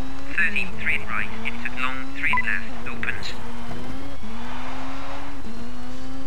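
Subaru rally car engine in Colin McRae Rally 2.0 on a Rally Italy stage, droning loud and close with repeated gear shifts that drop and climb again, plus a few tire squeals, while a player talks over it.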